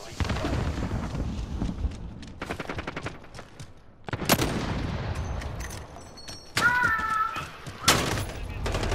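Shooter video game firefight, rapid bursts of automatic gunfire and single loud shots, close and intense, interspersed with game sound effects and players talking over voice chat.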